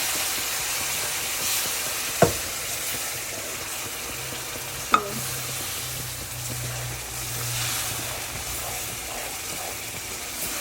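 Semolina for shahi suji halwa is stirred in a pan, a steady soft scraping and sizzling bed with a low hum, broken by two sharp clinks of a spoon against the pan.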